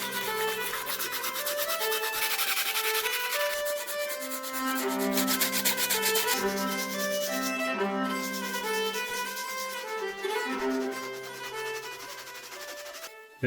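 Sandpaper rubbing steadily against handmade wooden wool combs, a continuous scratchy sanding sound close by with no voices, while melodic background music plays throughout.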